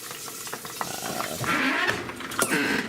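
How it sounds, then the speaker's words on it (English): Fish fries in a hot pan, giving a steady close crackling sizzle with sputters and occasional sharper pops throughout, no voices over it. "Fish frying."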